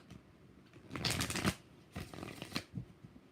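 Tarot cards are shuffled in two quick riffling bursts, a soft papery flutter that is fairly faint and close, with a short pause between them and no voice.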